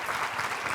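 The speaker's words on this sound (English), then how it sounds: "if we could give them a round of applause" An audience at a corporate closing meeting gives a brief round of applause for the event team, a short burst of dense clapping heard alone.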